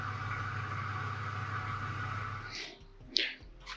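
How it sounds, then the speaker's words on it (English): Loud clutch fan on the 8.1-liter engine of a Suburban 4x4 2500, a steady droning roar up close that cuts off partway, followed by a few sharp clicks and knocks. "That's a loud clutch fan."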